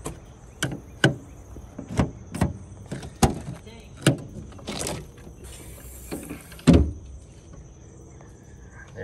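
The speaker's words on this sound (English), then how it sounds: "Pull this. The tire opens. It locks it into place." On the two-piece rear hatch of an Isuzu Rodeo barn find, the tailgate with its rear-mounted spare tire is worked open: a series of sharp metallic clicks and latch knocks, then a heavier clunk near the end.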